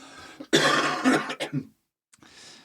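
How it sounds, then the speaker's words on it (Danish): A person coughs several times in a close, loud burst of harsh rasping coughs and throat clearing, then falls silent before a faint breath. "jeg hoster lige"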